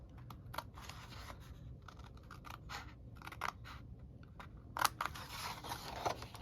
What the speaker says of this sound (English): I'm going to cut up to the 2nd score, going on the outside of the bump here.